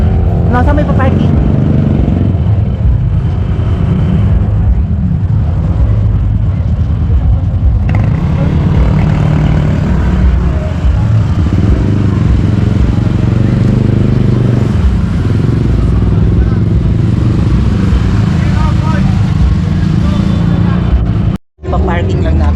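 A motorcycle is ridden into a parking spot at a hillside viewpoint, its engine rumbling steadily and loudly throughout, with people talking over it and a brief dropout near the end.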